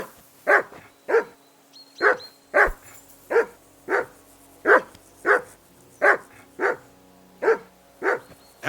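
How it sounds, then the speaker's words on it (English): A dog barking in the medieval video game Kingdom Come: Deliverance II, a steady run of about a dozen sharp, evenly spaced barks, close and loud, with no talk. "Whistle at that mutt of yours to stop barking."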